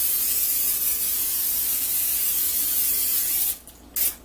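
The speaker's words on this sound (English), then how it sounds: "I'm actually going to spray my pan" Vegetable oil cooking spray hisses steadily onto a pan for about three and a half seconds, a close, loud, unbroken aerosol burst, then stops; one more short spurt follows after a brief pause.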